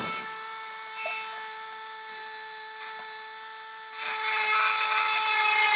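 A high-pitched rotary tool with a rounded diamond burr whines steadily as it grinds into stone, its pitch holding even, then the grinding grows louder and rougher toward the end.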